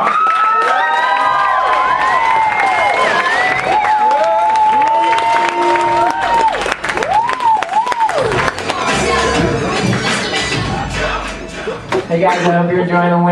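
A stand-up comedy audience cheers and applauds as a comedian is welcomed on stage, a loud, continuous roar of clapping, shouts and whoops that fills the whole stretch.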